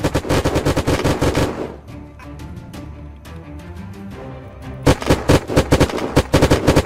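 Rapid automatic gunfire rattles in the video game Unturned during a fight at a military base, loud bursts at the start and end with a more scattered, layered exchange of shots between them.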